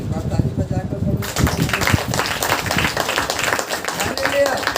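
A congregation at a Hindi-language Saturday church worship meeting of Mahayajkiya Kalisiya claps together, dense rhythmic clapping that starts abruptly and continues steadily with voices mixed in.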